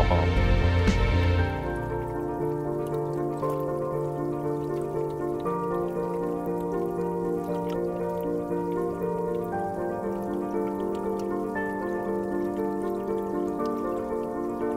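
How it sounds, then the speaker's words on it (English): Natural water flowing and dripping outdoors, a steady close wash of trickling and droplet patter that holds at an even level throughout, with a louder burst at the very start. "the sound of water brings tranquility to our lives and a connection with nature"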